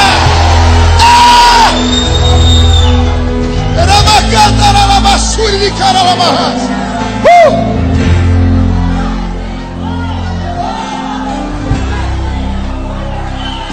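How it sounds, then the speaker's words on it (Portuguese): Church congregation shouting glory to God, a loud sustained mass of overlapping shouts, whoops and yells filling the space continuously, with voices raised together throughout. "Dá um berro de glória a Deus nesse lugar."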